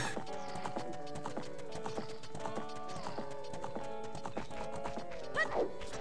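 Horse hooves clip-clopping in The Legend of Zelda: Ocarina of Time, a steady run of hoofbeats under looping game music with tonal melody lines, ending with a brief whinny-like swell near the close.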